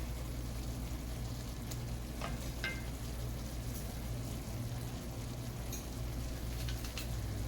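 Two tablespoons of butter melt in a hot pan for a keto cauliflower stir fry, giving a steady, even sizzle and crackle throughout with a few small pops and light stirring, no talking.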